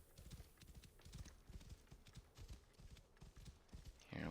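Horse hooves clop in a steady galloping rhythm while riding in Assassin's Creed Origins, quiet and close, ending in a brief louder rushing burst.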